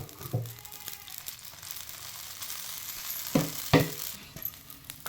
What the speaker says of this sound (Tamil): மாவு ஊற்றியாச்சு இப்போ மாவு சுற்றி கொஞ்சமாக எண்ணெய் விட்டுக்கலாம்